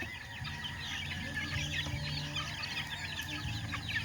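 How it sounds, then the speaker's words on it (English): Six-week-old chicks cluck and peep softly in a farm enclosure, with several overlapping calls over a low steady background hum. "These are actually healthy chicks."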